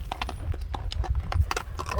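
Hooves of a horse clip-clop in quick, uneven beats on hard ground, close and fairly crisp, with light background noise and no clear talking.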